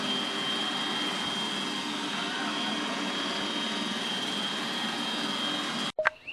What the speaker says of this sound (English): Will the girls be able to stay on with the Wild Roomba?